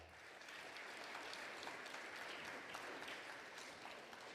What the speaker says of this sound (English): Please give a round of applause for our Student Council Board members.